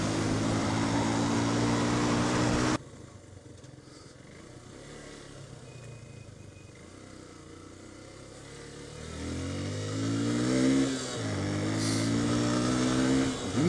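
A Yamaha FZS 150 motorcycle rides through traffic in Pokhara, Nepal: engine drone under heavy wind buffeting at first, then a quieter stretch before the engine revs up with rising and falling pitch.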